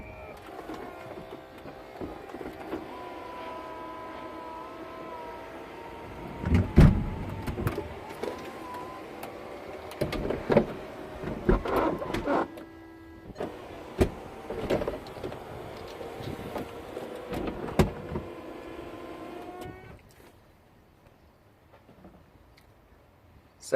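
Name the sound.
Volkswagen Eos convertible roof opening and closing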